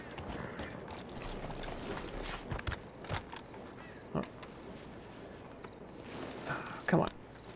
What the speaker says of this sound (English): my horse can't walk in a straight line